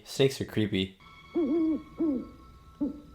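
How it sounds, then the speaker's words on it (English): Owl hoots from the 1993 film Homeward Bound, three soft, wavering calls evenly spaced after a brief line of speech, over a quiet background hum. "Owls are even creepier than snakes."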